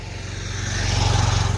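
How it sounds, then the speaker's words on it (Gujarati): Motorcycle on a village road, its engine growing louder as it approaches, a steady putter that rises and holds near the end, heard alone without talk. "એ મોટરસાયકલ તો આવે જ"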